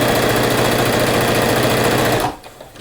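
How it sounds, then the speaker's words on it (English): Sewing machine running steadily while stitching a half-inch seam on a flannel rag quilt, a loud continuous whirring hum that stops abruptly near the end, leaving near silence. "sew 1/2" seam or 1/2" allowance all around the thing"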